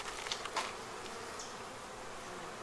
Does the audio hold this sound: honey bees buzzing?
yes